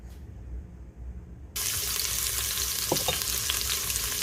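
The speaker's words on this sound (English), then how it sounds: "And we're going to fry up some of that pork." Pork hits hot oil in an Instant Pot on its sauté setting. After a quiet start, a sudden loud sizzle bursts in at once and continues steadily close by, with a few faint clinks.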